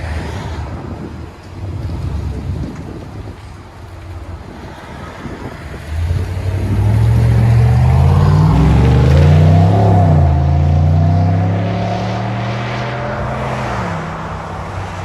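A 2021 GMC Sierra AT4 pickup with the 6.2L V8 and Flowmaster Super 10 dual exhaust: wind buffets at first, then from about six seconds the engine revs loud and close, swelling, holding and settling back down.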